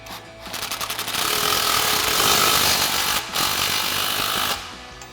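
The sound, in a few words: tightening a 3-inch exhaust clamp with a 15mm socket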